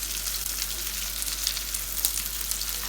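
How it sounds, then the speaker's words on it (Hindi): Chicken tikka kababs sizzle steadily in a hot pan, with a dense, even crackle of frying that stays close and fairly loud throughout, with no voices. "बहुत जल्दी ये फ्राई हो जाते हैं"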